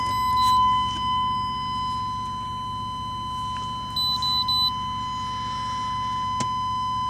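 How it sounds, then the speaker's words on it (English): A car's warning buzzer gives short electronic beeps briefly in a group near the middle, with the ignition on, over a steady electrical tone and low engine-like hum; otherwise quiet. "I should probably turn this annoying buzzer on"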